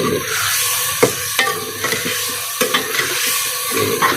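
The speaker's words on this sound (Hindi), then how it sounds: "ये इसको अच्छी तरीके से चलाना है" Chopped tomatoes and other ingredients for a village-style Sindhi dawat biryani are stirred in a pot, with steady frying sizzle and repeated scraping strokes of the spoon, close and loud with no talk.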